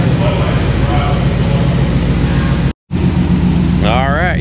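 A Dodge RAM 1500 with a swapped HEMI engine idles close by, a loud steady low rumble broken by a brief dropout, with a rising whine near the end.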